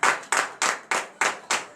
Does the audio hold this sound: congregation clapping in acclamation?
yes